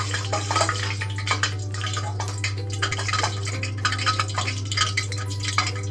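Steady bubbling and sizzling of water as it boils, a continuous busy texture over a low constant hum, with no talking.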